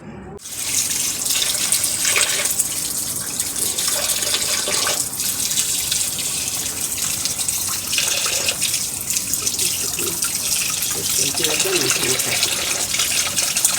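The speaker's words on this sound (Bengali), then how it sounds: "তারপরে জল এলে ভালো করে ধুয়ে নেওয়া হবে" Small sea fish, salted first, are rinsed under running tap water, a steady broadband splashing gush that continues without a break from start to finish.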